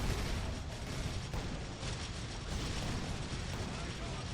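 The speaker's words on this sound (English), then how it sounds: "Mortars are firing away." Mortars fire in a tank battle video game, a dense, continuous barrage of booming, rumbling shots with mechanical clanking layered throughout, loud and unbroken.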